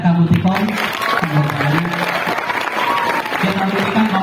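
A crowd applauds with steady clapping at a Maulid Nabi gathering while voices carry over it, the noise holding fairly even throughout.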